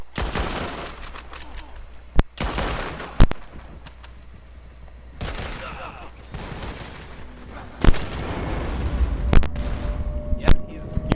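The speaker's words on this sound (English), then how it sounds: "Yep, he's using shotgun." Shotgun blasts in Red Dead Redemption 2: several loud, sharp shots spaced irregularly over a rumbling game background, with hoofbeats and people talking throughout.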